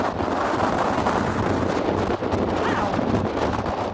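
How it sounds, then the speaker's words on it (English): Strong gusting wind by the sea during Storm Eunice buffets the microphone in a constant roaring rush that fills the whole stretch, loud and close, with no talking. "It is so windy, as you can probably hear."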